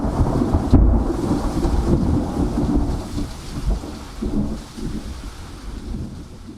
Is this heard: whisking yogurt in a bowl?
no